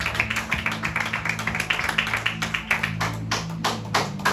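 Rhythmic clapping from a church congregation, steady sharp claps repeating through the whole stretch at a brisk pace, with a low sustained hum underneath and no talk.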